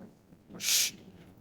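A single short, high bird call rings out outdoors near water on a snowy day by Crater Lake in Oregon, a brief clear note over quiet background.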